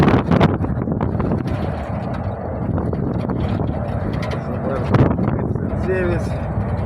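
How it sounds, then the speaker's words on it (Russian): Strong hurricane-force wind roars and buffets the microphone continuously near the M36 highway outside Kostanay during a forest fire, with a voice talking briefly under the gusts. "ветер ураганный"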